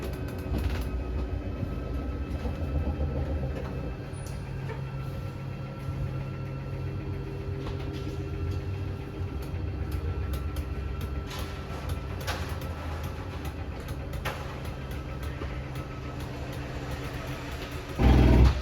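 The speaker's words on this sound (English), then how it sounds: "we're just going to hear a couple of clicks from the motors letting us know they've reached their stall" A 2019 Forest River Avenger 24RLS RV slide-out motor extending, a steady low hum droning for a long stretch with faint clicks scattered through it as the motors reach stall, then a louder burst of noise at the end.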